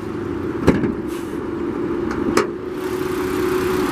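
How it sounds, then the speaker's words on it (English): A Mitsubishi 3-liter V6 in a 2015 Outlander GT idles steadily at a moderate distance, a low even hum broken by two sharp clicks or knocks, with no voices. "This one does have Mitsubishi's 3-liter V6. Everything under here is in great shape, running fantastic as well."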